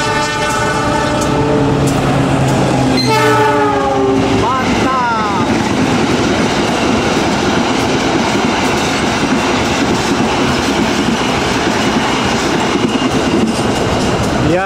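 A locomotive hauls a fast train past on the southern line near Bandung, sounding its horn in long harmonic blasts. Then comes a dense, loud roar and clatter of wagons rushing by close. Talk can be heard faintly in the background.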